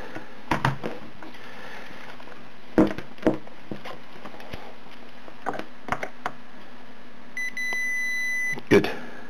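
A multimeter continuity beep sounds while checking a repaired wiring joint on a motorcycle's display and fuel gauge circuit: a steady electronic tone of about a second, preceded by scattered clicks and handling knocks in a quiet room.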